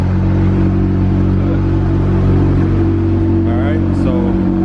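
A 2019 Dodge Challenger Widebody Hellcat Redeye engine and exhaust idling nearby, a loud steady deep rumble with even low harmonics, and a brief voice near the end.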